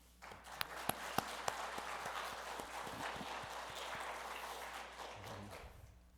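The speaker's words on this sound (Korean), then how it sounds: "주님에게 큰 감사와 영광의 박수 올려드리겠습니다" A church congregation applauds during a Sunday worship service, giving thanks and glory to God, with sustained room-filling clapping and a few sharp louder claps near the start, tapering off toward the end.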